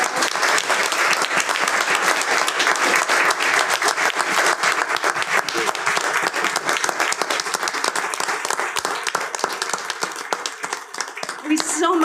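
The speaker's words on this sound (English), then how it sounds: "would you stand up and let us give you a round of applause?" Sustained, dense applause from a seated audience at a school district board meeting, honoring students' family members, steady and full for about twelve seconds before thinning slightly near the end.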